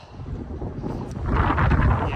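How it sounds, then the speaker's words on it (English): Wind buffets the microphone on a bike ride among pine trees, a rough, low rumble that grows stronger and gustier in the second half. "it's pretty windy."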